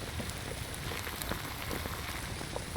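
Steady rain falls across the jungle in the survival game Green Hell, a dense, even hiss of drops with scattered pattering on surfaces, continuous and fairly close, with no talking.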